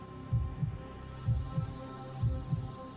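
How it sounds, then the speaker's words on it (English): A heavy heartbeat sound effect pounds in three evenly spaced double thumps, low and booming, over a faint steady hum, with no voices. "her heart pounding in her chest"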